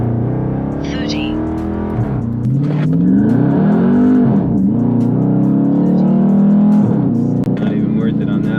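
A Dodge Charger 392 Scat Pack V8 in sport mode launching and accelerating hard from a stop, a loud, close engine roar whose pitch climbs, drops at each gear shift and climbs again, with people talking over it.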